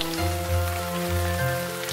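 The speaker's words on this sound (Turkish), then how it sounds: "Yağmur yağıyor." Rain patters steadily on a surface, a constant hiss beneath a low tonal hum and soft musical notes.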